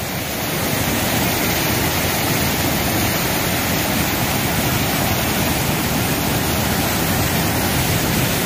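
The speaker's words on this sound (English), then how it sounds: "That water is raging down there" Dismal Falls on the Appalachian Trail roars with raging water, a dense, loud, unbroken rush of white noise that holds steady throughout with no voices.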